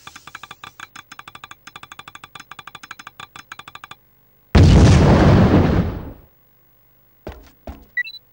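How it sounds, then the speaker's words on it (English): A remote-controlled spider bomb in 007 Everything or Nothing scuttles along a floor with rapid, evenly spaced mechanical clicks, followed by a loud whooshing burst and a few sharp game sounds. "how satisfying the sound of moving the spider along the floor is"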